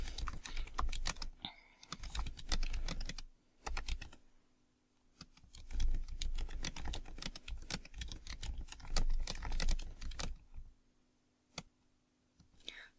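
Steady, rapid typing on a computer keyboard as a prompt is entered, dense bursts of key clicks with brief pauses, close and fairly loud, no talking.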